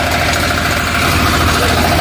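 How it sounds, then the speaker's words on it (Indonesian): The engine of a Firman FTL 720D cultivator tractor runs steadily at idle, a loud, dense, continuous mechanical rumble and clatter with no speech over it. "Jadi kalau posisi ke off, otomatis traktor jalan."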